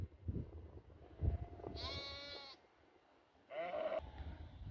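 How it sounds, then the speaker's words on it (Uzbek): White sheep on a mountain slope near a village bleat twice, one drawn-out cry followed by a shorter one a moment later, clear over a quiet outdoor background. "Oq qo'ylar."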